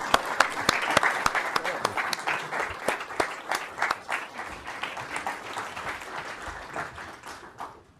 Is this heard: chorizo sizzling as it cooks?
no